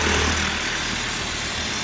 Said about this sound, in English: a satisfying little clip of pressure washing